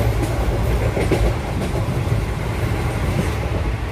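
Train rolling through a railway station in India, a loud, steady rumble with rhythmic clickety-clack of wheels over the rails that continues throughout.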